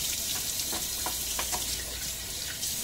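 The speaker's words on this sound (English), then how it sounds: "So I will rinse my razor as usual" Tap water runs steadily while a razor is rinsed during a shave with a Gillette NEW RFB Tech razor, a close, constant hiss broken by a few faint clinks and splashes, with no talk.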